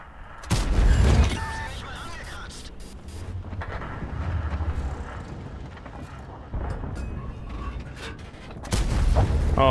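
Heavy tank cannon fire from an E 50 M in a video game, with several loud booms and rumbling blasts spread across the stretch, mixed with engine drone and a voice speaking over it.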